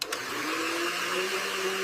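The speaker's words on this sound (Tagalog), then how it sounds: "I-on daw balik ang blender be." An electric kitchen blender whirs steadily at close range, a loud continuous motor drone with a faint rising pitch after a short start-up click, no voices.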